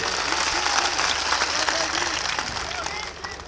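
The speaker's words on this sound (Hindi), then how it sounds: "तालियों से फिर इस्तकबाल कर दिया जाए।" Audience applause at an All India Mushaira poetry gathering in Pachpedwa, Balrampur, a dense, loud crowd clapping throughout that fades slightly toward the end, with voices mixed in.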